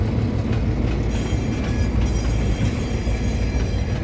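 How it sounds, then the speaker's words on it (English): A train rolls past close by, a continuous loud rumble with steady clattering of wheels on track, sustained without a break and no voices over it. "It's a train!"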